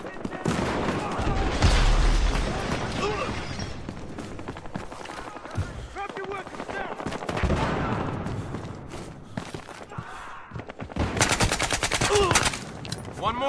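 Video game gunfire fills the scene with bursts of rapid automatic shots and booming impacts coming in clusters, loud and close, mixed with brief game sounds between volleys.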